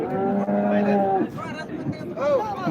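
Cows at a cattle market moo loudly and close by, one long low call followed by shorter moos, with someone talking in the background.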